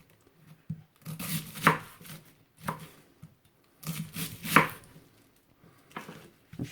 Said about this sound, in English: Take your cabbage and slice it. Nice thin slices.